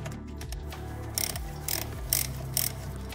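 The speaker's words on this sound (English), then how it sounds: "I've now carefully loosened the screws with the ratchet." A ratchet loosening Torx T40 oil pan screws on an automatic transmission, giving a few separate bursts of rapid metallic clicking close by amid quiet workshop background.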